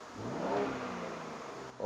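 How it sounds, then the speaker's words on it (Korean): BMW X3 M with its exhaust valve closed accelerating, a muted engine note rising in pitch over about two seconds, close and fairly restrained, with a brief shift near the end. "지금 현재 배기를 꺼놓은 상태에서 한번 밟아보겠습니다"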